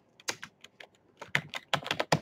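Rapid, light clicking of keys on a computer keyboard, irregular taps in quick bursts, close and fairly quiet with no talking.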